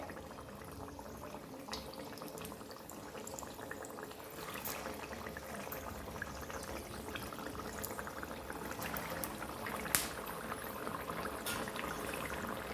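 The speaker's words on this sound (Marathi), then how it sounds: "तेलात वडा सोडताच्या वेळेस गॅस आपला फास्ट ठेवायचा आहे" Potato and semolina vada fry in hot oil on a high flame, a dense continuous crackle and bubble with scattered sharper pops, fairly quiet and steady throughout.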